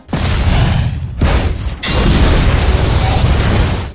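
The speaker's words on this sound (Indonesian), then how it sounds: "Akhirnya, kapal pun meledak." Loud, roaring blasts of broadband noise in two long bursts, like a powerful ship explosion with a rumbling, crackling aftermath, close and intense.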